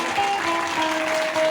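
An audience at a live Ramayan katha claps steadily as a crowd, a continuous close patter of many hands at an even level, with a sustained tone ringing faintly underneath.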